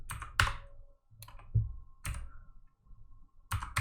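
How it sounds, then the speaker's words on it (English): Keys clatter on a computer keyboard as values are typed in, short bursts of close, crisp clicks separated by brief pauses, with no talking. "I'm typing in these values"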